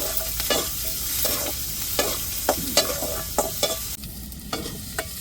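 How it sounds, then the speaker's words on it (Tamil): Onions sauté in a pan, a steady sizzle broken by repeated scraping stirs of a spoon against the metal, close and distinct. "வெங்காயம் நல்லா வதங்கி வந்துருச்சு"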